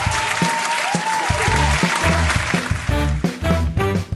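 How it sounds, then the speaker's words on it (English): An online improv show audience claps on a Zoom call, a short burst of applause mixed with tonal voices or cheering that rise toward the end. "please give us a huge round of applause"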